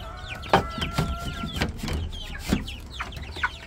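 Chicks cheeping in a backyard chicken coop, thin high peeps scattered over the whole stretch, mixed with clucks from larger fowl and a few sharp knocks close by.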